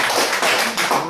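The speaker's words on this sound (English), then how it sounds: "Kristyna, round of applause." Brief audience applause welcoming a speaker, close and fairly loud clapping with a few uneven swells before it cuts off.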